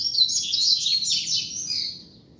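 A female coleiro, or double-collared seedeater, gives a quick run of high, thin chirps and twitters, close and clear, fading after about two seconds over a quiet low street background.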